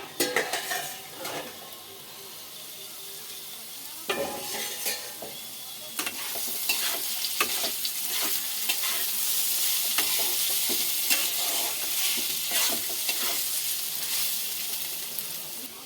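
Spicy semolina fries in a pan, giving a steady hiss and sizzle, while a wooden spatula stirs it with repeated close scraping and clinking strokes throughout, and no one speaks.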